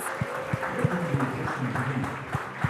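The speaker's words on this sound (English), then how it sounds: "round of applause" A crowd applauds at a food awards ceremony as a winner is announced, clapping running steadily beneath a rhythmic musical backing with regular beats.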